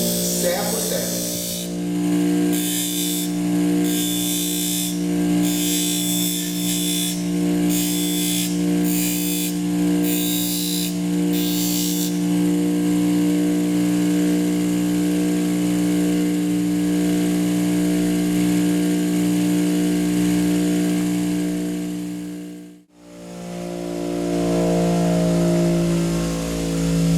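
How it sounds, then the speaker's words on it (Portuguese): A serrated knife is sharpened tooth by tooth on the rounded tip of a grinding wheel. The motor gives a steady, loud electric hum, and repeated short grinding bursts come at first before the machine briefly cuts out and restarts. "o meu rebolo aqui na ponta, ele é arredondado e encaixa certinho"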